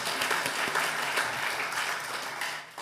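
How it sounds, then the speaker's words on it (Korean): A church congregation claps in thanks after a sermon, a sustained wash of applause of moderate loudness that tapers off near the end. "은혜로운 말씀을 전해주신 목사님께 감사의 박수를 드리겠습니다."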